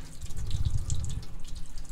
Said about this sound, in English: Running water.